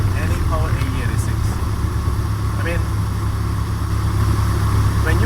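Honda F20C VTEC engine fitted with individual throttle bodies in a Toyota AE86, a steady droning engine note running continuously with a strong low rumble, heard from inside the car.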